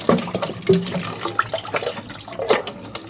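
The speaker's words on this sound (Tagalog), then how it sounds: "kay kusog ang tubig oh." Tap water runs in a strong, splashing stream, close and fairly loud, with uneven gurgles and spatter throughout and no talking.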